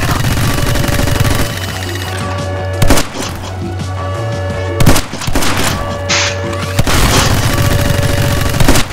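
Gunfire in the video game My Friend Pedro, with sharp shots cutting through a steady, dense bed of game music and noise at several points.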